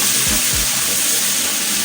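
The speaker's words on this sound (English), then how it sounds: "So we're going to be frying our spring onions." Spring onions frying in hot oil for fried rice, a loud, close, continuous sizzle with a couple of low thumps from stirring near the start.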